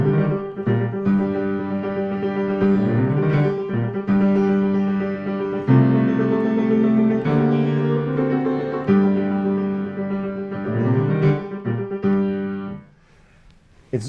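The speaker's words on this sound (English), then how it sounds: "Schubert comes up with this phenomenal entry in the piano before the singer comes in." Piano introduction to a Schubert song, rich sustained chords and a moving melody played alone, close and full, before the piano fades out near the end.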